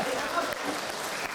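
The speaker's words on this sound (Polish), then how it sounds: "Gromkie brawa." A film premiere audience breaks into applause, an even, dense clapping heard throughout at moderate distance and fairly soft level, with a voice speaking over it.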